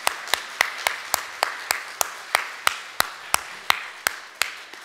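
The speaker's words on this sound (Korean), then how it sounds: "우리 부모님들을 위해서 다 같이 박수하면 좋겠습니다." Slow, evenly spaced claps ring out one at a time, about three per second, sharp and close in a church congregation during a Sunday service, each with a brief room echo and no talk over them.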